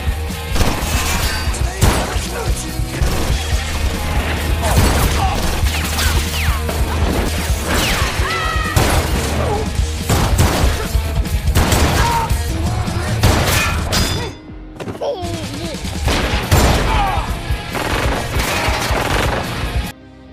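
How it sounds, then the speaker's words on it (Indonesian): A movie gunfight bursts with rapid, dense gunfire mixed with smashing and shattering crashes that run for about twenty seconds. Impacts come close and loud, with a brief lull near the middle. "Setelah baku tembak yang intens, Smith dan Oliver berhasil melarikan diri"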